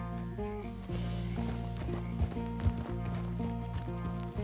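A horse gallops in the Red Dead Redemption 2 video game, steady rhythmic hoofbeats under a low musical score, with an occasional louder thump.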